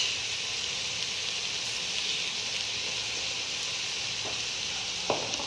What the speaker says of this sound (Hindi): हमारा लहसुन अदरक भी भून चुका है